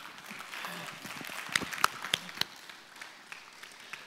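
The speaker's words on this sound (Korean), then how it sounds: "다시 한번 자문위원님께 큰 박수 부탁드리도록 하겠습니다" Audience clapping at an advisory committee launch ceremony, a broadband patter with a few sharper individual claps standing out, moderately distant and steady, fading slightly toward the end.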